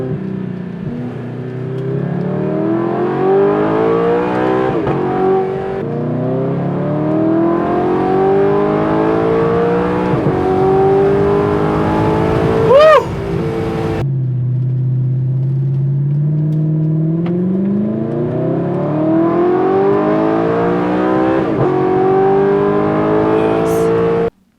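A supercar engine while driving, a loud close roar that climbs in pitch through repeated revs and gear changes, with a brief sharp whine spike midway and a deep rumble between shifts.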